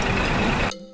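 A truck engine rumbles loudly with a rising beep in a video game after a car is clicked, then cuts off abruptly near the end.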